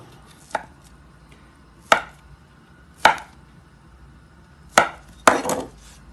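A knife cuts makrout date-filled pastry dough on a board: five sharp, isolated chops spaced about a second apart, close and loud, the last a slightly longer double cut.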